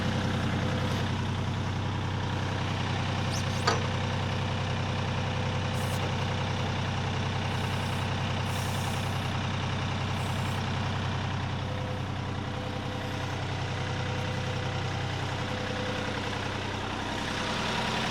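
A Kioti CK3520 tractor engine idles steadily, a close, constant low diesel rumble with a faint brief click partway through and no talking.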